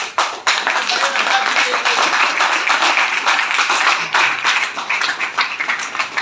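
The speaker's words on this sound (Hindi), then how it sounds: "और हमारे एक बार जोरदार ताली चाहूंगा।" An audience at a motivational talk claps loudly and continuously for several seconds, a dense, even wash of hand claps with a few louder spikes.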